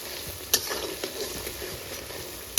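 Onions frying in a dry karahi while mutton cooks with its fat, a steady close sizzle with a few sharp clicks of a stirring spoon, no voices.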